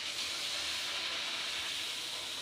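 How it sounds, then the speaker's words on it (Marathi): Puri dropped into hot frying oil, a steady loud sizzling hiss that holds evenly throughout, close up with no talk. "तेल तापलेलं आहे, तर पुरे टाकते।"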